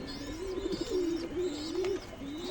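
Pigeons coo softly and repeatedly while eating feed, low rolling calls that rise and fall with some light background shuffling, fairly quiet and close.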